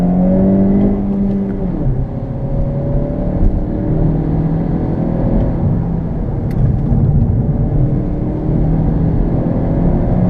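A 2017 Honda Civic hatchback engine pulling hard under acceleration on regular gas, a loud, steady droning rumble with rising tones heard from close up.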